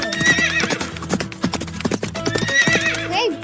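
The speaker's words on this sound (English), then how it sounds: "Great job! It's a horse." A horse trots with rapid, repeated hoof clip-clops and gives a loud, clear neigh, close and prominent with no talking over it.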